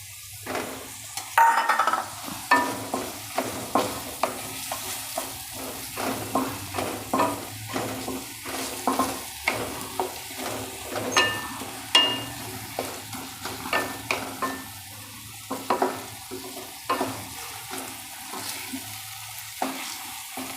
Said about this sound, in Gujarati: થોડુંક સતડાઈ જાય પછી એમાં આપણે કાંદા નાખી દઈશું સૂકા કાંદા